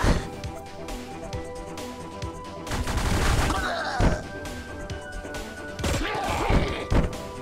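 Rapid bursts of rifle gunfire fill a twin-stick shooter base-building game called Sleep Tight, with repeated sharp shots, impact crashes and steady background music throughout.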